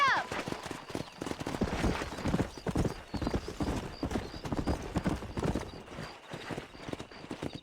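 Horse hooves gallop at a fast, steady clip-clop in the Red Dead Redemption video game, with a horse whinnying and a voice speaking over the riding.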